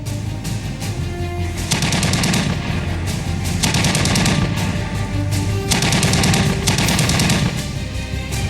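Sustained machine gun fire at the India–Pakistan border during a ceasefire violation, rapid bursts rattling continuously and loudly with no pauses.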